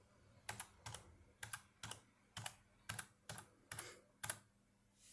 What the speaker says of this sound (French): Et je tape la date de naissance.